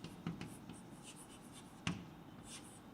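Chalk or marker scratches across a classroom board in short quiet strokes, with a couple of sharper taps between them, faint and close, no voices.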